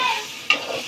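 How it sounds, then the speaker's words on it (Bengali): Moong dal being fried and stirred in mustard oil for khichuri gives a brief, steady sizzle, broken midway by one sharp scrape of a stirring spoon. "এই মুগ ডালটা ভেজে নিব খিচুড়ির জন্য"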